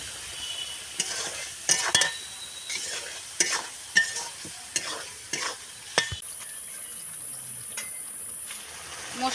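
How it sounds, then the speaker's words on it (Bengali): Spice masala for soybean curry fries in oil while being stirred, producing repeated sharp scraping clacks from the utensil over a soft, steady sizzle. "মশলাটা আমার ভালোভাবে কষানো হয়ে গিয়েছে,"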